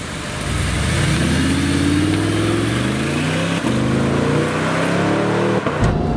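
An early Audi R8 with a mid-mounted 4.2-liter V8 making 420 horsepower, driving: a loud, close engine drone that climbs steadily in pitch as it accelerates, with quick gear shifts breaking the rise twice.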